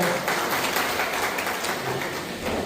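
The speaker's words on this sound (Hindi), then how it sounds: "तालियों से आप इस बात का स्वागत करें" Audience applause at a BJP political meeting in Kathua, a steady, fairly faint wash of many hands clapping together with no pauses.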